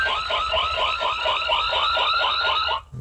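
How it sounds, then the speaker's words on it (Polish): An Inqmega wifi security camera sounds its siren alarm, a loud rapid warbling electronic tone pulsing in quick repeated sweeps for nearly three seconds before cutting off abruptly. "Syrena, no to włączamy sobie jakiś tam alarm."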